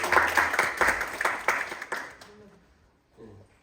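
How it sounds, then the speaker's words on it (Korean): Audience clapping at a teachers' church retreat gathering, a burst of applause in uneven claps that tapers off within a couple of seconds, followed by brief voices. "다시 한번 박수"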